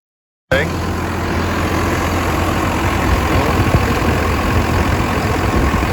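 A rebuilt turbocharger spins with its cover off, giving a steady whirring hum over a low, continuous engine-like drone that starts suddenly after a short silence and stays level throughout.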